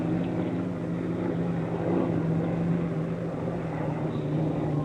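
An unlimited hydroplane racing boat at the 1964 Seafair time trials in Seattle roars steadily from a distance, its engine running with a rough, uneven drone across the water.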